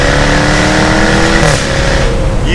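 A deep, loud supercharged V8 Jaguar F-Type R AWD engine roars steadily, then the revs drop off with a brief burble as it eases off.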